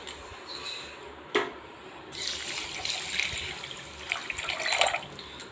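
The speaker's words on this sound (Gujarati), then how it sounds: "આના અંદર આપણે 2 વાટકી પાણી રેડીશું." Two bowls of water poured into a pan of sugar to make syrup for gulab jamun, a steady splashing pour close by with a sharp clink near the start, continuing alone.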